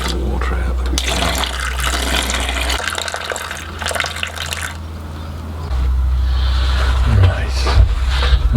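Water being emptied out of a water butt to lower its level, a steady splashing, gushing flow running close by for the whole stretch with a low rumble underneath.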